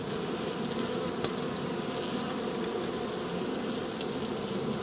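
Honeybees at a hive give off a constant, dense buzzing drone, close and steady for several seconds with a few brief louder passes of individual bees and no voices.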